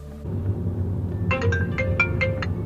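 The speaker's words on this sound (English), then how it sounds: "Incoming calls are announced, either by name or phone number." An iPhone ringtone for an incoming call chimes in a bright series of repeating tones after a short quiet start, set over a steady low background hum.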